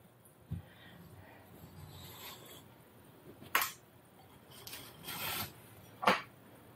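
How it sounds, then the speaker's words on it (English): Short scraping rasps as a knife is run around the sides of a baking pan for raspberry pinwheels, several brief close scrapes spaced irregularly over quiet kitchen background. "I'm going to take a knife, go around those sides"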